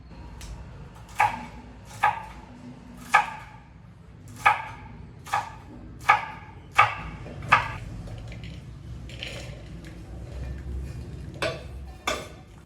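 Knife chopping washed green chillies on a cutting board in a kitchen, a run of about eight sharp, evenly spaced close-up chops, then a pause and a few more cuts, with faint background noise.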